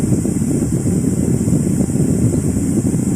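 A mini air cooler fan blows in a steady, close whooshing hum with no pauses.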